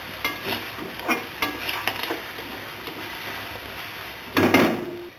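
Carrots and onions fry in a pan with a soft continuous sizzle, punctuated by repeated spatula scrapes and stirs, and a louder clattering burst near the end.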